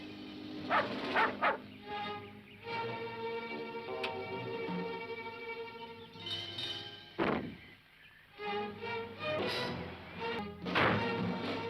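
A pet dog barks in a scene from a Hindi film, its barks scattered over a busy soundtrack of music and thumps and heard at a moderate distance.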